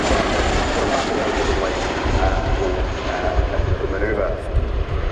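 An RAF Chinook HC.6A helicopter flies past at an air show display, its rotors producing a loud broad thrumming roar, while a commentator speaks over it.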